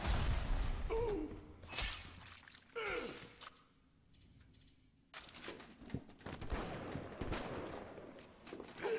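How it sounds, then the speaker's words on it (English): Explosions and gunfire in the BioShock video game, set in Olympus Heights, come as repeated loud bursts and sharp cracks with gasps in between, then a quieter stretch before further blasts. "explosions and explosions and more explosions."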